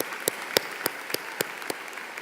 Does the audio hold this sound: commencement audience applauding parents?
yes